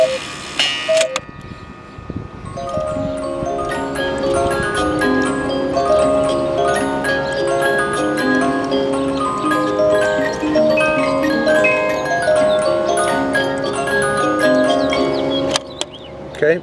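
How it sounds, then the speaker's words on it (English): An antique Black Forest cuckoo clock's musical movement plays a continuous tinkling melody of plucked metallic notes, with a steady ticking and whirring mechanism running underneath. "I believe the musical movement has 3 melodies,"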